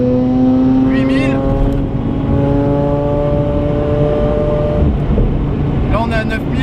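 A sports car engine revs hard to 9000 rpm, a loud rising harmonic whine held steadily before easing, with a shift-warning beep near the top and a voice speaking briefly over the engine at the start and end.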